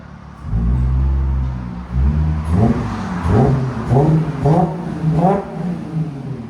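A 2016 Audi A7 with a 3.0L supercharged V6, Borla ProXS exhaust and muffler delete idles, then is revved hard several times in quick succession, each rev rising and dropping with a loud, raspy roar close by.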